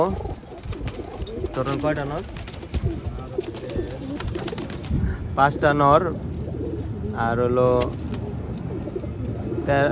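Pigeons in a small home loft of game-flown birds coo in rolling, throaty calls that rise in several clear bursts while someone talks nearby.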